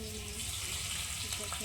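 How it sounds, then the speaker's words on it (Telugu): Paneer cubes fry in hot oil in a pan, a soft steady sizzle and crackle with faint clatter, fairly quiet and continuous throughout. "ఇప్పుడు పక్కన ఒక ప్యాన్ పెట్టుకొని కొద్దిగా ఆయిల్ వేసి వేడైన తర్వాత పన్నీర్ బాగా ఫ్రై చేసుకోవాలి."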